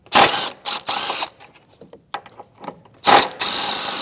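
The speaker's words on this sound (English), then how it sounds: "I prefer a socket, and we're just going to take these off." A socket ratchet loosening 15mm upper rear shock mount bolts on a Chevrolet Malibu, with loud bursts of rapid clicking at the start and end and quieter metallic ticks and clanks in between, close up.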